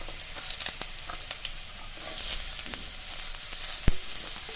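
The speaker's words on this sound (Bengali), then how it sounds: "একই সাথে দিচ্ছি ফুলকপি কুচি, হালকা আছে এগুলো আমরা একটু ভেজে নেব।" Chopped potato and cauliflower fry in hot oil in a pan, a steady close crackling sizzle dotted with sharp pops and one louder clack near the end.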